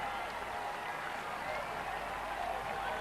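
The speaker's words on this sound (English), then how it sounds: "great cheer for them" A crowd cheers a United States win in the 1996 Olympic women's lightweight double sculls rowing heat at Lake Lanier: a steady, dense roar of voices and applause holding at an even level for the full three seconds.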